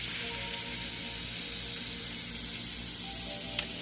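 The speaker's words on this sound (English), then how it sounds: "And we're going to sear these on both sides as well on high" Steak searing on high heat in a very hot pan with salted butter, a loud, dense, continuous sizzle close up, with one brief sharp tap near the end.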